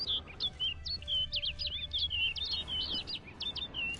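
A bird in The Witcher 3 calls with a rapid run of high, thin chirps and whistles, clear and fairly close, over a soft low ambient hum.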